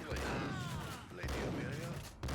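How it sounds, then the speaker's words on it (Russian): Gunfire in the video game Max Payne, fired into the floor at a street corner: several booming shots in quick succession with rolling echoes, while someone narrates over them. "Здесь на углу мы стреляем в пол, для того, чтобы сагрить вот этого противника."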